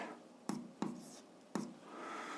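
Pen on paper writing out an algebra solution, heard as three sharp taps of the pen among soft scratching strokes, close and quiet, followed by a low breathy rustle.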